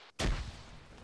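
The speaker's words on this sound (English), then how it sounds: "Second grenade." A grenade blast in an ArmA-style military shooter, a sharp loud boom that rolls into a decaying low rumble, heard alone after a brief near-silence.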